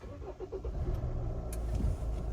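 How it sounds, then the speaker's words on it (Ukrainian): A 2012 Hyundai ix35 2.0 diesel engine cranks and catches, settling into a low, steady idle close by. "Двигун запускається також чудово"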